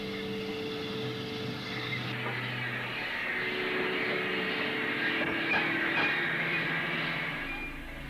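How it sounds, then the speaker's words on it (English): A steam locomotive hauls its train onto a former Great Central line, a distant low rumble and hum that swells gently and holds steady throughout, with faint tonal whines and occasional soft knocks. "The train is signalled onto the ex-GC line towards Pittston Bridge."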